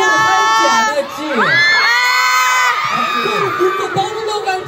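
A festival crowd at a Korean open-air show at Everland cheers, shouts and whoops loudly for an encore, with high children's and young voices in a sustained roar and rising calls.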